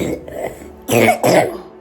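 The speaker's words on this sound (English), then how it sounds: "see that yucky cough?" A young child coughs, a faint rough throat sound followed by two harsh, wet coughs close by, with no talking.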